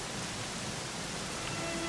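Steady rain falls in Dragon Quest XI S at the Dundrasil Ruins, a dense, even hiss of drops that stays constant throughout with no voices.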